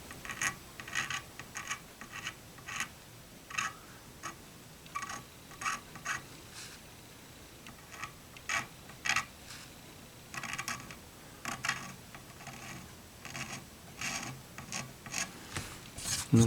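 Short, repeated scraping and rasping strokes, fairly close and steady in rhythm, as stray white spray paint is knocked off the neck of a Gibson SG guitar near the fretboard.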